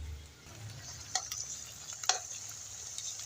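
Garlic and red chillies sizzling and frying in a pan for a dhaba-style garlic red chilli chutney, a steady faint hiss with a couple of brief clinks as the chillies go in and are stirred.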